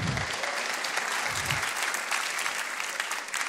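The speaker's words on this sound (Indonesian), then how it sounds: "Ah, boleh tepuk tangan." A studio audience at a stand-up comedy show claps after a bit about dangdut music, a sustained, even burst of applause that holds steady for a few seconds, close and bright, with no talking over it.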